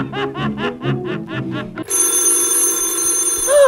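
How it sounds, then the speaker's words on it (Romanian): Old-style telephone bell in a Romanian radio theatre comedy: six or seven rapid ringing bursts in a steady pattern, loud and close, then giving way to a bright, hissing tone. "Formidabil, ce mai sună telefonul acela! De ce oare nu răspunde?"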